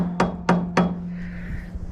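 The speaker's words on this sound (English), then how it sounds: "I was tapping on this with the water flowing with the plastic hammer" A plastic hammer taps a forklift radiator while water flows through it: three sharp, evenly spaced knocks, then a steady low hum with no further strikes.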